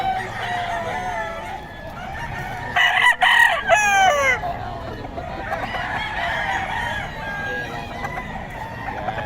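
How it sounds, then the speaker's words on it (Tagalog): A rooster crows close by amid ongoing clucking and other chicken calls, with a second crowing call following shortly after. "Yan mga manok ni Boss Russell, puro quality yan."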